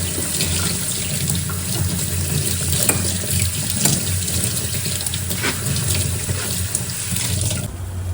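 Canned chickpeas being rinsed under a running kitchen tap, a steady close rush of water splashing into a sink that continues without pause for several seconds before easing slightly at the end.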